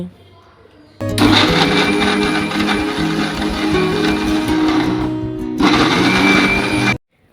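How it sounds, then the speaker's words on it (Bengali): An electric blender grinds spices with a loud, steady whirring motor. It runs in two long bursts separated by a brief dip, then cuts off sharply. "এখন মশলা ব্লেন্ডারে ব্লেন্ড করে নিচ্ছি"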